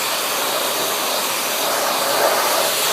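A hair dryer blows a steady, close, broadband whoosh of air while a cat is groomed, with no voices and only slight changes in the rushing tone.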